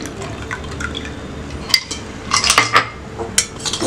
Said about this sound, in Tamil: இதில் வந்து நான் ஐஸ் வாட்டர் ஊற்றுறேன்.